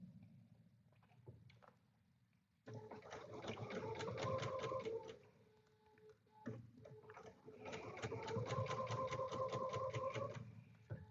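Home sewing machine stitching fabric on a kid-friendly summer sewing project, running in two sustained bursts of rapid, even mechanical chatter separated by a brief pause, close and clear with no talk.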